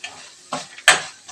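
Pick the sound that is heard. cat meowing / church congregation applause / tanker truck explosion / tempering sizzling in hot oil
tempering sizzling in hot oil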